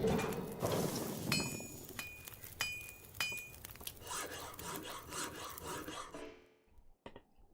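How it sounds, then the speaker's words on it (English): Sawing in the survival video game The Long Dark, a rough rasping scrape repeated in uneven strokes with occasional light metallic clinks, moderately close and fading out at the end. "Why is there sawing?"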